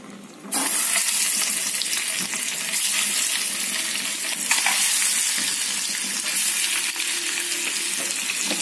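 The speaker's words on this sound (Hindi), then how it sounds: "अच्छे से ऊपर नीचे करके धीमी आंच में, मीडियम आंच में इसको तल लेंगे।" An egg coated in batter hits hot oil in a wok and bursts into loud, dense sizzling that holds steady after a quiet first half-second, with no talking.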